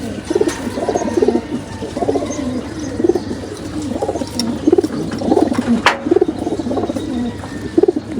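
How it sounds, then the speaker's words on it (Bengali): Female pigeons coo repeatedly in a steady rhythm, with soft throaty calls recurring every second or so over a low background hum. "গাইস এগুলো সব মাদি কবুতর"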